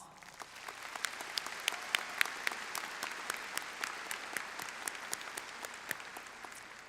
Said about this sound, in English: Please join me in recognizing these passionate and dedicated individuals with a round of applause.